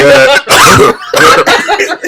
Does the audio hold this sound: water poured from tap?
no